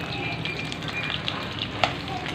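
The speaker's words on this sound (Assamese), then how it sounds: "মাছ ভাজি আছোঁ এয়া" Fish fries in a pan at home, giving a steady, close crackling sizzle with a few sharper pops and spits standing out over the constant frying hiss.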